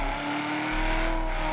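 A video-game supercar in a GTA roleplay drives and revs with a sustained, loud engine drone that surges briefly after a momentary dip.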